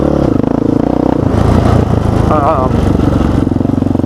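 2004 Yamaha Raptor 660R ATV single-cylinder engine on dirt, a loud close pulsing thump with rhythmic firing and clatter, rising in a rev midway, heard under someone talking.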